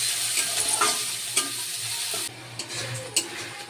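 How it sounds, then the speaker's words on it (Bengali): Spice paste sizzling and being stir-fried in a pan with fried onion and no added water. There is a close, steady frying hiss, with occasional sharp scrapes and clinks of the spatula. "মশলাটা কষে নেব।"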